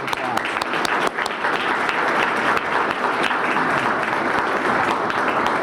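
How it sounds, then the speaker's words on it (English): An audience at the State of the Tri-Community 2021 address applauds in a sustained, dense round of clapping that stays loud and even throughout. "applause."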